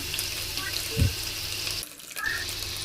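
Sliced onion drops into hot oil with green chillies in a kadai, producing a close, bright sizzle with a brief thump at the moment of adding, then a short dip before the frying hiss resumes.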